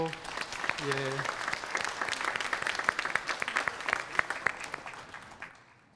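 A church congregation at a Sunday worship service bursts into dense, sustained applause that fades out near the end, with a brief voice heard at the start.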